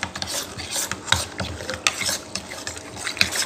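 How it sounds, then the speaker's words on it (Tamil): A spoon scrapes and stirs through a chocolate milkshake mixture in a bowl, making rhythmic rasping strokes with small clinks, close and alone. "இப்போ நல்லா கலக்கி விட்டுக்கலாம்."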